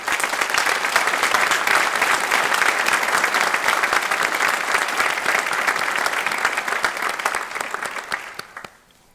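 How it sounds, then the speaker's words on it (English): Audience clapping for graduates at a police academy graduation ceremony, a dense, loud, sustained round of applause from a large crowd that tapers off and fades to quiet at the end. "Please join me in giving these individuals a well-deserved round of applause."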